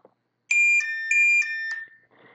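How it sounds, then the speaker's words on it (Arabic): A stopwatch and timer app on a phone or tablet plays the device's default alarm ringtone: bright electronic tones in a quick repeating two-note pattern, heard twice, close and clear with no talking. "ممكن ديفولت بمعنى نفس نغمة الجهاز نفس نغمة اللي انت حاطه في الجوال أو في التابلت"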